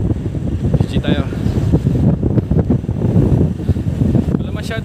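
Heavy headwind buffets the microphone in low, rumbling gusts on a motorcycle ride, loud and constant, with brief bits of indistinct talk breaking through.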